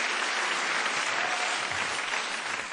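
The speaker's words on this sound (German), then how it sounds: "gerne, einen Applaus" Theatre audience at a Bavarian cabaret prize event breaks into sustained, dense applause, a loud even wash of many hands clapping without pause.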